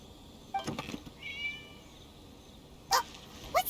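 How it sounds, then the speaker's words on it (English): A cat meows in the video game Genshin Impact: a soft meow early on and two sharper, brief calls near the end, set against quiet ambient game background. "It was just a cat."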